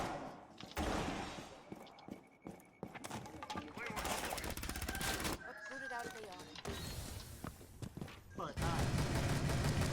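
Gunfire in a Rainbow Six Siege match comes as loud automatic bursts and single shots throughout, mixed with mechanical game effects, while a player's voice talks over the action.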